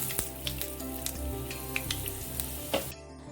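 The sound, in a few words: mustard seeds and fenugreek sizzling in hot oil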